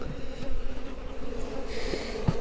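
Honey bees buzz around an opened beehive during a split-hive inspection, a steady close hum with a few sharper passes and bumps near the microphone, no talking.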